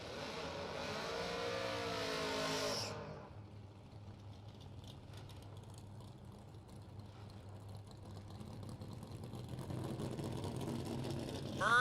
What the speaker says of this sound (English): we got drag racing to watch